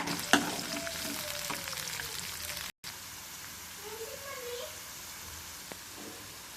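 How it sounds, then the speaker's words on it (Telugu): Crushed garlic and curry leaves are stirred into softened onions frying in a pan for capsicum curry, making a soft, low-level sizzle with a few spoon scrapes, broken by a brief cut partway through. "ఇప్పుడు కచ్చబచ్చ దంచుకున్న గార్లిక్ అండ్ కరివేపాకు వేసుకొని కలుపుకుందాం"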